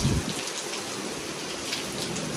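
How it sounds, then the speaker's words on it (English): Steady rain falls outside a balcony at a Jamaican beach resort, a dense even hiss of drops on surfaces with no talk, continuous and moderately loud throughout. "It's raining today, man."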